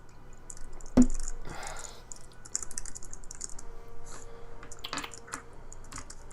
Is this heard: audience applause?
no